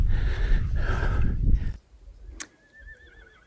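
A horse whinnies briefly and not loudly after a stretch of wind noise, with a sharp click partway through, on a windy mountain pass in the Pyrenees.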